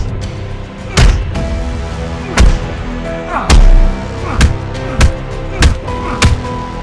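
Gunshots at an outdoor shooting class, about nine loud sharp reports spaced irregularly roughly every half second to second, each with a booming tail over a low background rumble.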